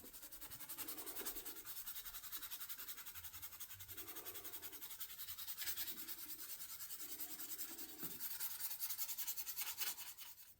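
Victorinox Swiss Army knife scales being rubbed with 1000 grit abrasive, a steady close scratchy sanding that keeps on without a break, with no voices.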